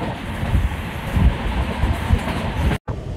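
A MEMU express train running at speed near 95 km/h between Kakinada and Vijayawada, a loud continuous rumble with rhythmic wheel thumps heard from inside the coach, briefly cutting out near the end.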